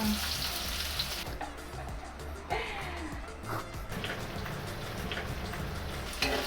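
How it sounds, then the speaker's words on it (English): Shallot and tofu frying in a pan for restaurant-style pad Thai, with a dense, crackling sizzle that runs throughout and shifts in intensity as the food is moved around. "So we're gonna fry up some shallot."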